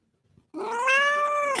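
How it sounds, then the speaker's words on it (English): House cat giving one long, drawn-out unhappy meow, loud and close, rising then falling, after a brief moment of quiet shuffling. "That's a real meow."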